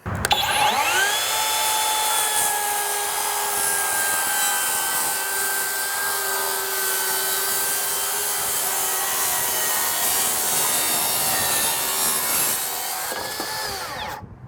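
A Skilsaw TRUEHVL cordless worm drive saw rips through wood in one long, loud, continuous cut lasting about thirteen seconds. It whines and rasps up close, then spins down quickly at the end.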